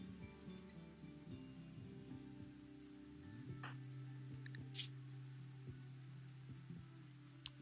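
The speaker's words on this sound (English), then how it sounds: "it's now it's a normal rainstorm" Steady rainstorm in the RimWorld video game, heard as a faint, continuous hiss of rain across the whole stretch, with low sustained tones running underneath.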